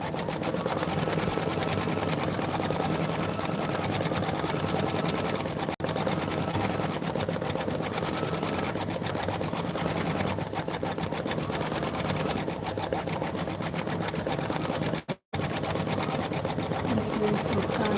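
A sewing machine runs continuously while quilting a Lori Holt Home Town embroidered quilt in a booth, an even close motor drone with fast needle chatter that holds steady for the whole stretch.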